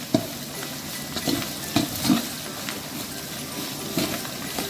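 Onions stirred in a hot pan for South Indian coconut rice, a low steady sizzle with a few distinct spoon knocks and scrapes against the pan, close and moderately loud.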